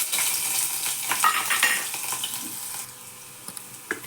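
Garlic sizzles in hot oil in a kadai with a bright crackling hiss that fades over a few seconds, with a light clink of a utensil.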